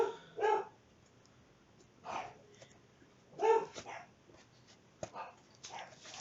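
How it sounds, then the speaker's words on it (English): A dog barks in short bursts, a few sharp barks spaced over several seconds with quieter whimpering between them, fairly close and indoors while thunder rumbles outside. "So I'm so sorry my dog keeps barking in the background."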